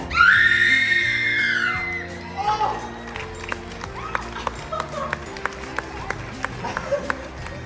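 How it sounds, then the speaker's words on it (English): A woman lets out a loud, high-pitched scream that trails off, followed by quick footsteps and crowd noise with some cheering. "Let's all hear how you would scream"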